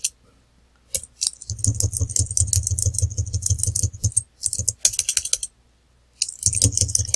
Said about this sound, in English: So I type their names in.